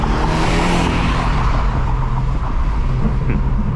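A 2017 BMW 430i Gran Coupe with a B48 engine, stock exhaust and aftermarket downpipes does a wheelspin, a loud, close engine roar with tire squeal and skidding that holds steady throughout.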